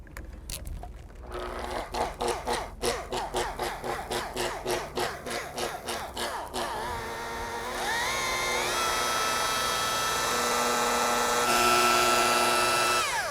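A buffer polisher applies ceramic coating to yacht gelcoat, running first in a rapid pulsing chatter as the pad works the surface, then settling into a smooth, steady whine that rises slightly near the end.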